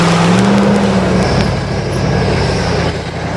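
A HMMWV military vehicle drives through mud on deflated tires, its engine a loud, steady rumble with a low drone that eases slightly toward the end and no voices over it.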